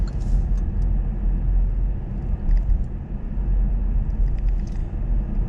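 A car on a driving lesson in Cambridge, Ontario, moves along a road with a steady low engine and tyre rumble heard from inside the vehicle, with a few faint high clicks and no talking.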